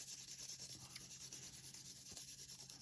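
Black pastel pencil scraped across sandpaper, a soft, steady gritty rubbing with repeated light strokes, close and quiet with no talking.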